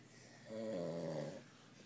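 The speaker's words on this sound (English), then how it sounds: "Who the fuck snores laying on their side?" A man snores while lying on his side, one drawn-out, buzzy snore swelling in the middle of a quiet room, close and fairly soft, with no talking.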